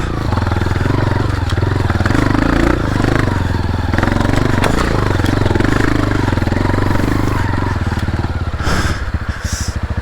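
A Tenaci Wong trials motorcycle engine labours loud and close in first gear on a snowy mountain climb near Kangding, Sichuan, with a steady throbbing drone and some clattering, then uneven revving near the end.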